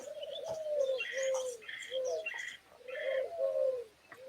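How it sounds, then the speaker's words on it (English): Pigeons coo outdoors in soft, rounded, repeated phrases with a steady rhythm, mixed with faint higher chirps from other birds, quiet and somewhat distant, with no voices. "I'm trying to look at if the pigeon noises are in the game"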